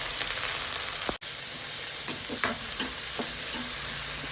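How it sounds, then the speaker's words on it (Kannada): Onions fry in a pan as the base for a fish curry, a constant close sizzle broken by a brief cut and then several light scrapes and taps of a spoon stirring, with no one speaking. "ಈರುಳ್ಳಿ ಚೆನ್ನಾಗಿ ಫ್ರೈ ಆಗಲಿ"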